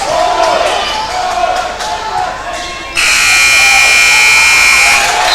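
A loud, sustained buzzer blares over a noisy crowd at a basketball game, the Watchdogs versus the Bulldogs, sounding the end of the first half and holding steady to the end.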